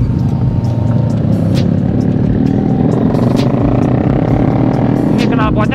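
Motorcycles with loud aftermarket exhausts roar on a group Sunday morning ride near Bogor: a dense, steady, close engine rumble fills the whole clip without letup.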